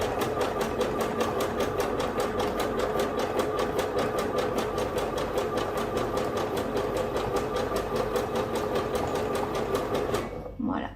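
A sewing machine stitches picot elastic onto fabric in a fast, steady rhythmic clatter, close and loud, running without a break until it stops near the end, with someone speaking French faintly underneath.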